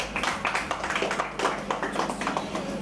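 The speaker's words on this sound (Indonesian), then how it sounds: "Tepuk tangan dulu buat beliau." Dense, continuous clapping from a crowd, a steady wash of many hands with no clear pauses.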